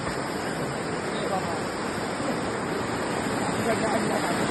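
Steady rain and rushing flowing water in a village outdoors during fishing, a dense continuous wash of noise with no clear breaks, loud and close.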